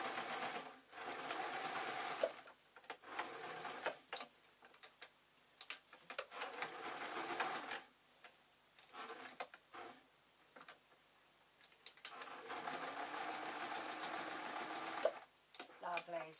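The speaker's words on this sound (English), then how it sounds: "I am just going to take this out of the sewing machine." A domestic sewing machine stitches fabric in bursts, its rapid ticking rhythm starting and stopping close by, with someone talking between and over the runs.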